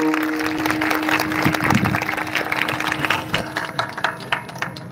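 An audience claps at a live kirtan, a dense burst of applause that swells and thins into scattered, uneven claps over a steady background hum.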